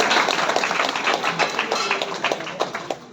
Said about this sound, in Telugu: అందరు కూడా గట్టిగా చప్పట్లు కొట్టాల్సిందిగా కోరుతున్నాను